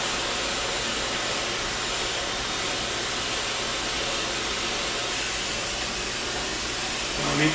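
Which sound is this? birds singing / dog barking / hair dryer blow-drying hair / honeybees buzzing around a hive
hair dryer blow-drying hair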